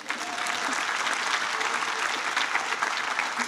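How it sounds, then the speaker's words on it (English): Sustained applause from the audience at a 2022 baccalaureate service for the graduating class, a dense, even roar of many hands clapping without a break. "We can clap for them."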